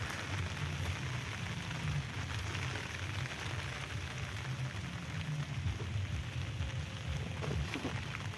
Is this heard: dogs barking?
no